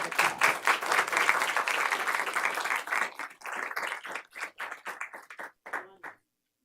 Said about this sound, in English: So let's give them just a big round of applause.